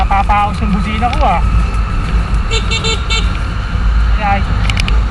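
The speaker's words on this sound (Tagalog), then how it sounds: "napapaos yung busina ko" A car horn with a hoarse, strained tone honks in several short bursts, loud and close against steady road and traffic noise.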